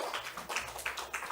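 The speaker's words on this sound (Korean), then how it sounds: "박수 한번 쳐주시죠." Congregation clapping during a Sunday church service, a quiet, fairly steady patter of hand claps from a modest group, soft and somewhat distant.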